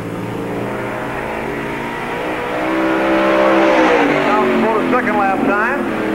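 A stock car circles the Park Jefferson Speedway oval during a 1997 NASCAR Busch All Star Tour event, its engine droning steadily and then swelling louder as it nears, heard at a distance beneath an announcer's voice.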